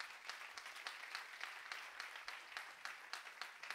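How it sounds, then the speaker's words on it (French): A church congregation applauds the volunteer cleaners, a soft, distant patter of clapping with a steady rhythm that stays faint and even throughout. "Est-ce qu'on peut les applaudir?"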